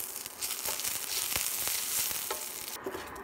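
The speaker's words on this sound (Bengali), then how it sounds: "শুকনো মরিচ তেলে নেড়ে চেড়ে ভেজে নিব।" Four dried red chillies fry in mustard oil, giving a steady close crackling sizzle with a few sharper pops and stirring scrapes, and no talk.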